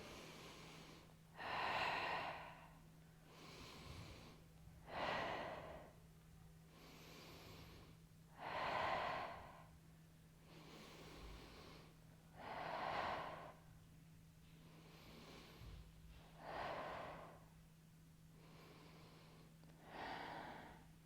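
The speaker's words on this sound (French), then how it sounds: "J'inspire, j'expire." Slow, steady breaths in and out during a Pilates abdominal and glute exercise, about ten audible breath cycles, close and fairly soft with a low hum behind them and no talking.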